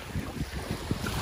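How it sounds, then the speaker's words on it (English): Choppy water sloshing and slapping against a hull, with gusty wind buffeting the microphone throughout. "As you can hear, the waves are very strong."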